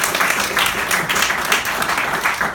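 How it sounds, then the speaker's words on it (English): Loud, continuous applause from a live performance audience, many hands clapping close and dense throughout without a break. "Let's give it a round of applause"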